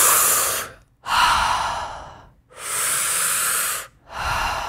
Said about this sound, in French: on fera 3 grandes respirations comme on fait d'habitude